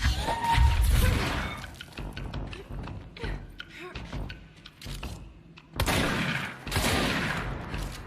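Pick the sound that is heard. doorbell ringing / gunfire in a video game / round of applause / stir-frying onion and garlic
gunfire in a video game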